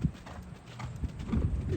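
A standardbred horse cantering, its hooves striking in a steady rolling clip-clop beat, close by as if heard from the saddle, with low rumbling movement noise underneath.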